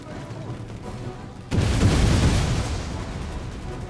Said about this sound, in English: Die by grenade, my enemy.